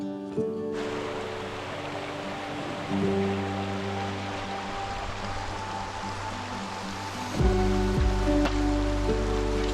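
Steady rain falls in the Brecon Beacons outdoors, a constant wash of hiss with occasional low thumps and a faint drone underneath, fairly soft and continuous.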